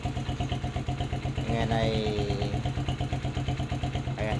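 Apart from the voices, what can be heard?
Rusi 125 motorcycle engine idling after top overhaul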